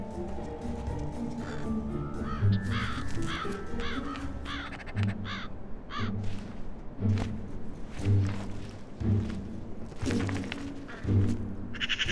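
Several crows caw loudly and repeatedly while squabbling over food, harsh overlapping calls in uneven bursts with thuds of movement between them, close and without any talking.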